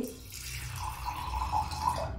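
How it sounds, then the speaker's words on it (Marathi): A small amount of water is poured onto grated jaggery to make syrup, giving a soft, brief trickle and light splashing that is quiet and close, with no voices. "थोडंसं पाणी घेते।"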